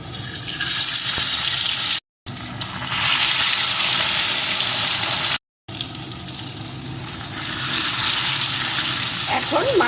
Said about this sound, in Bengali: এখন তেলটা গরম হয়ে গেছে তেলের ভিতরে এখন আমি মাছগুলোকে একে একে দিয়ে দেবো